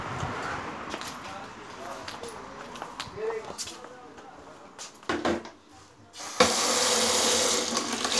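A tap is turned on to fill water for a dog, with a steady gush of running water starting in the last couple of seconds after quiet household sounds and a voice speaking earlier.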